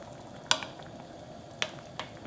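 A wooden spoon stirs simmering dumpling soup gently, giving soft liquid swirls over a quiet cooking hiss, broken by three sharp clicks of the spoon against the pot.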